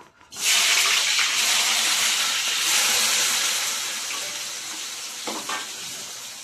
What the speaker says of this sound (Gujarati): શાક વઘારવાનું હાલે છે.